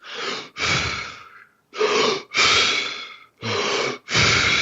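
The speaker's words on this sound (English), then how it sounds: "where it's essentially controlled hyperventilation." Rapid, forceful breaths of the Wim Hof method, a controlled hyperventilation: loud, close inhales and exhales repeating in a steady rhythm of paired bursts with brief gaps.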